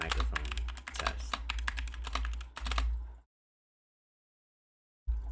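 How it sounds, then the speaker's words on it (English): Rapid typing on a loud computer keyboard, close and clattering for about three seconds, then a sudden cut to silence before the keys resume at the very end. "I have a pretty loud keyboard, so it's obviously going to pick up that sound"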